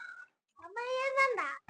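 A cat gives a drawn-out meow, close and clear, with a short faint call before it.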